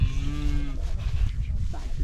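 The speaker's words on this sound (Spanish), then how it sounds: "¡Vaca!" A cow lows at a rural cattle branding festival in Paico, Sucre, Ayacucho, Peru, one long moo that falls in pitch and then trails off against low outdoor rumble and faint background noise.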